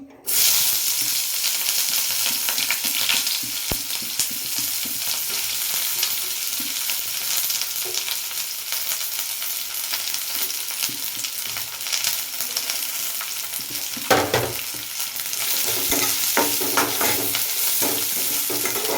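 Onions sizzle steadily in hot oil in a kadai, a continuous close frying hiss with occasional stirring scrapes, no voices.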